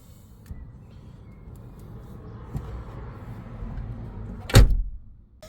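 A Peugeot 308 car door, newly hung on its hinges after crash repair, shuts with a single loud, solid slam near the end, following a quiet stretch of faint workshop background.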